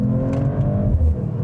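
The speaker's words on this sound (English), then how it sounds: "listen to the engine." Engine of a Mercedes-AMG CLE 53 revving through its AMG Sport exhaust, a steady loud low rumble with a rising, strained note, close and alone without talk.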